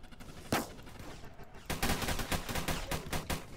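Gunfire in the Roblox game Armored Patrol: one sharp shot, a short pause, then a long run of rapid automatic bursts with an even rattling rhythm, loud and close, with no talking.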